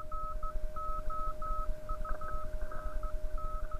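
Morse code CW tones decoded in Ham Radio Deluxe software, a steady run of short and long beeps at one pitch keying in irregular dot-dash rhythm over a constant hum and noisy hiss, with no voices.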